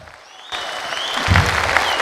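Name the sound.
concert audience applause for the men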